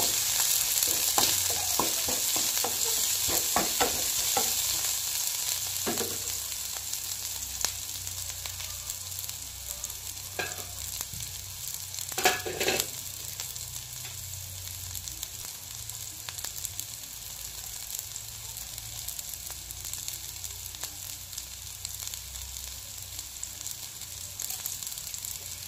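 Chopped onions stirred while frying in a pan, a continuous sizzle with repeated spatula scrapes and clinks early on, settling into a quieter steady frying hiss.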